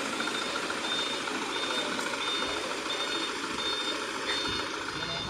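A Mitsubishi Canter truck with Adiputro Espasio bodywork runs with a steady, slightly rough engine rumble, while a high reversing beeper chirps at regular intervals over it.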